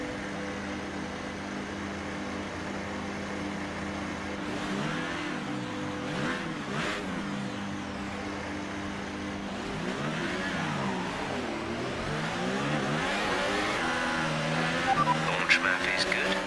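F1 2018 race cars idle and rev through a game formation lap, a steady engine drone with rising and falling revs that grow louder toward the end, under continuous talking.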